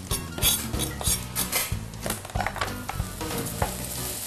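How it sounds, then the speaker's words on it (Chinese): Ginger crackles in hot oil and sesame oil in a wok, with repeated scraping and clinking of a metal utensil as it is stirred, close and lively. "那我们把这个姜先下来爆香"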